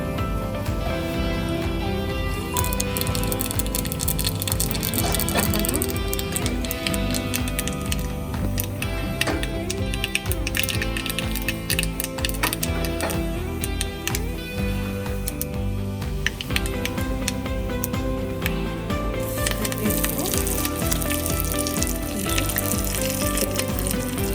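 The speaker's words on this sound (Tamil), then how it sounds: "ஒரு அடுப்பில் ஒரு கரண்டி வச்சு கொஞ்சம் எண்ணெய் விட்டு, எண்ணெய் காஞ்சதும் கொஞ்சம் உளுத்தம்பருப்பு," Urad dal and mustard seeds crackle and sizzle steadily in hot oil in a small ladle, a dense, continuous frying hiss with scattered popping that stays loud throughout with no talk.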